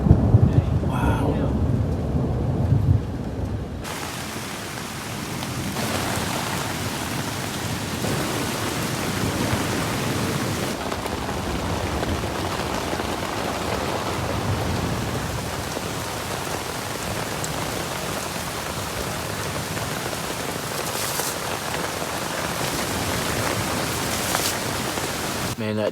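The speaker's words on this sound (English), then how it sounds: "you can see the storm is rolling in." A steady, dense thunderstorm downpour drums on a tent during an Ozarks overlanding camping trip, with a deep rumble of thunder at the start and continuous loud rain throughout.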